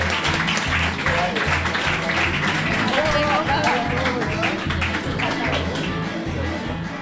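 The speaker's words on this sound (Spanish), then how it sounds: "Aplauso para Pablo de los amigos!" A small group of friends applauds a person called Pablo during a party game, giving dense, steady clapping up close that lasts several seconds while people talk and shout over it.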